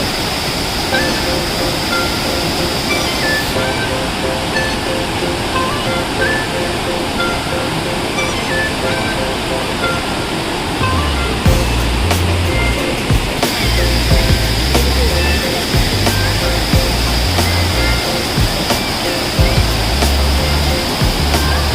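Savdav waterfall near Kankavli in the Konkan region rushes as a steady, loud broadband roar throughout, with deeper low rumbling swells joining in the second half.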